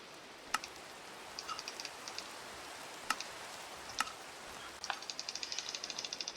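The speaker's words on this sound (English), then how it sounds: "I love how the rain sounds" Soft steady rain patters in the background in Minecraft, punctuated by sharp clicks and short tapping bursts, with no talking.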